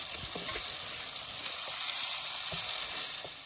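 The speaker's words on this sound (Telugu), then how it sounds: "ఒక్కసారి మొత్తం ఆ ఆనియన్స్ టమోటాస్ మొత్తం కలిసే విధంగా ఒకసారి కలబెట్టుకోవాలి" Chicken pieces with onions and tomatoes sizzle steadily in a hot frying pan while being stirred, with a few soft scraping knocks from the spoon, village-style cooking heard close and alone.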